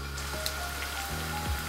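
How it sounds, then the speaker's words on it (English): Tofu pieces frying in hot oil in a pan, a soft continuous sizzle with faint crackles, close and fairly quiet, no voices. "carefully add the tofu pieces to the hot oil"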